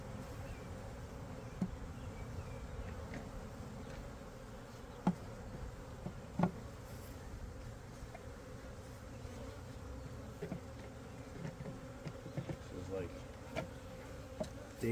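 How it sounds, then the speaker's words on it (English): Honeybees buzz around and into a hive box outdoors in a steady, low, continuous drone, with occasional small knocks and clicks over the faint hum. "Bees already going in it."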